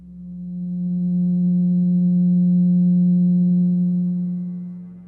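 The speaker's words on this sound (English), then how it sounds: "First, let's listen to what the 180 total degrees contained in a triangle sound like." A steady pure electronic tone of 180 Hz, standing for the 180 degrees in a triangle. It holds loud and alone, with a smooth swell and fade at each end.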